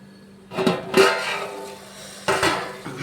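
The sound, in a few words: covering the cooking pot with its lid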